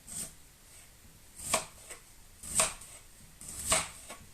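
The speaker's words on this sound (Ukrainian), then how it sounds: "цибулю можна не дуже дрібно різати" A knife chopping onion on a board, three or four separate crisp cuts spaced about a second apart, close and fairly quiet with no talking.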